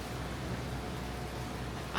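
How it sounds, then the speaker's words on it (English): Rain falls outside as a steady, even hiss of broadband noise that stays constant throughout, with a brief louder rustle right at the end. "I don't know if you can hear the rain."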